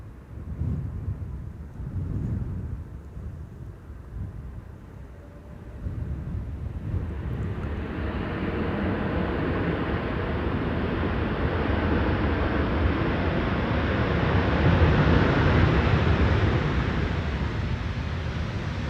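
A KLM Boeing 747 lands in a crosswind at Amsterdam Schiphol. A deep jet rumble builds after a few seconds into a loud, sustained roar of reverse thrust that holds steady to the end.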